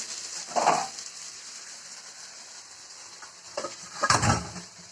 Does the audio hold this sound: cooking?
yes